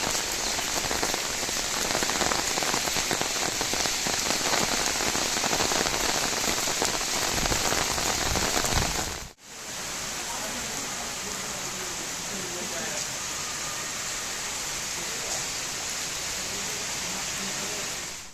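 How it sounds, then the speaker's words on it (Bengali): Heavy rain pours down steadily on a platform, a dense, loud hiss of drops drumming on surfaces that continues unbroken apart from a brief dip midway. "আর ডিউটি আসা মাত্র শুরু হলো প্রচণ্ড বৃষ্টি।"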